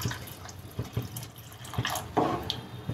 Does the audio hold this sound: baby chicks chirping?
no